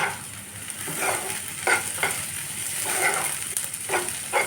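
Onions frying slowly in about one and a half spoons of oil over a low flame for a drumstick and cashew curry, heard as a steady close sizzle with intermittent stirring scrapes, no voices.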